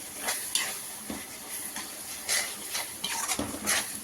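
Spoon stirring chili powder into tomato egg curry frying in a pan, with quiet repeated scrapes and clinks over a soft, steady sizzle, no voices.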